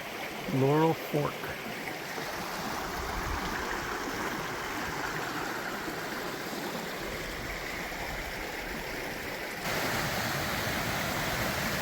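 Water of the Laurel Fork stream rushes steadily along a trail after heavy rain, a close broad wash that fills the whole scene, with a brief spoken word near the start.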